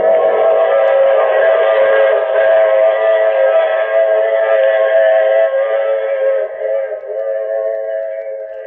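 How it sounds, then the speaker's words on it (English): A train whistle sounds as a radio-drama effect, a loud, sustained, multi-toned blast held steadily for several seconds over a faint rumble of a train running, then tapering slightly toward the end. "I take this same train every week at this same time."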